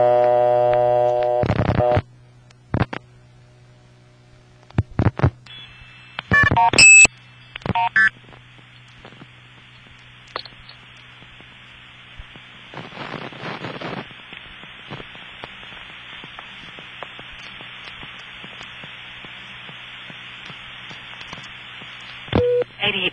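Telephone signalling inside a Bell System No. 1 step-by-step office: short bursts of MF sender tones break off and stutter, then a steady 2600 Hz tone is blown and held for many seconds over a constant low hum, with scattered clicks.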